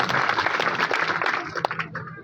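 Audience applause honouring Bhagat Singh, a short burst of crowd clapping at moderate distance that tapers off within a couple of seconds, with voices mixed in.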